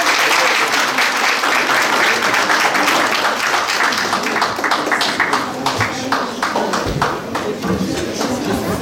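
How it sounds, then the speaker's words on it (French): Guests at a sixtieth birthday celebration give dense, continuous applause that carries on for several seconds at a strong level, with voices underneath. "Est-ce qu'on peut applaudir pour lui, s'il vous plaît?"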